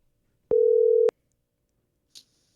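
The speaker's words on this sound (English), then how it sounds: "I guess it's my phone, so I will dial." A telephone line sounds a single steady tone of about half a second during dialing of a call, bounded by sharp clicks, followed by a short faint chirp, isolated against near silence.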